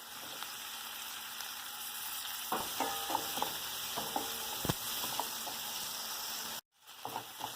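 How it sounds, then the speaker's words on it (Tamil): Chopped onion and tomato sauté in a pan with a soft, continuous sizzle, and a spoon stirs and scrapes at intervals before a brief break in the sound. "வெங்காயம் தக்காளி வதங்கிக்குது."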